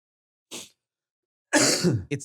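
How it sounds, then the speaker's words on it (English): A man coughs indoors: one short cough, then a pause, then a louder harsh burst with a quick final cough straight after, close and clear with no talk over it. "I've never coughed like that."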